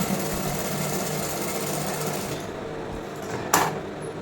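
Sewing machine stitching a double seam across a lined blouse shoulder, a steady close mechanical whir that stops partway, followed by a brief sharp clunk.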